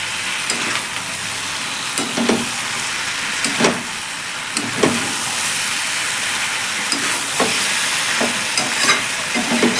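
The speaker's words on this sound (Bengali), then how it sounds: "তরকারিটা এবার একটু নেড়ে চেড়ে দেবো।" A spoon stirs a vegetable curry of six kinds of vegetables in a pan, giving a low steady sizzle broken by regular scraping strokes roughly every second or two.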